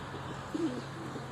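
A pigeon gives a single short, low coo midway, faint against steady wind and open-air background noise.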